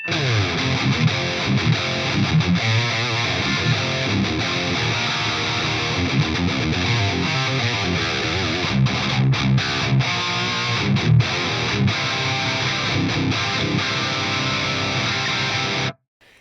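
A loud, continuous high-gain distorted electric guitar riff in a tight Rectifier style, played through a Marshall cabinet miked with a blended 57, 121 and Sennheiser 421, thick and saturated, ending abruptly.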